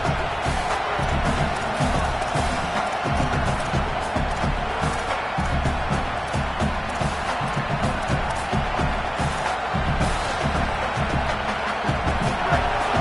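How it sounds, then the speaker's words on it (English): A large American football stadium crowd roars and cheers steadily throughout to support the defense, a dense, loud wall of voices with occasional surges. "Listen to this crowd just shaking the girders of this place, trying to help their defense."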